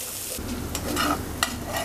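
Fried yardlong beans are scooped from a pan into a bowl after the stove is turned off, with soft continuous scraping, a faint sizzle and one small sharp clink of the utensil.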